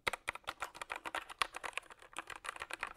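Typing on an XVX H61 mechanical keyboard with damped keys produces a rapid, steady stream of close, crisp clacks, evenly paced keystrokes with no voices.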